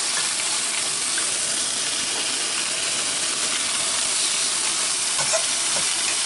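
Onion and leek frying in oil in a pan while being stirred, a steady loud hissing sizzle with occasional faint stirring clicks, close and continuous without talk.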